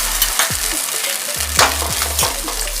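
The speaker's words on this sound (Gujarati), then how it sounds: "અને સતત હલાવતા રહીશું એટલે કોર્નફ્લોરને આપણે ગઠ્ઠા થઈ જાય નહીં." A white sauce of butter, milk and cornflour bubbles and sizzles in a pan while a spoon stirs and scrapes it steadily. The sound is close and continuous, with a few brief low tones and no talking.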